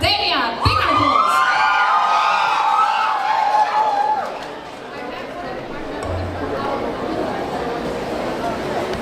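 Cosplay competition crowd at Overload NZ 2025 cheering and whooping after a skit is introduced, loud and sustained for a few seconds before settling into murmur, with voices heard among the crowd.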